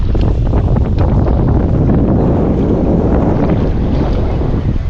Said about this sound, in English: The wind is kind of pushing the water out and